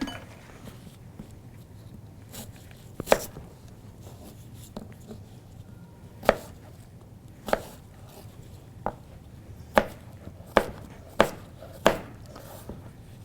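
Sharp, irregular knife chops strike a cutting board, likely apple or bacon for oatmeal breakfast cookies. About a dozen distinct hits are spread over the stretch, with quiet gaps between them.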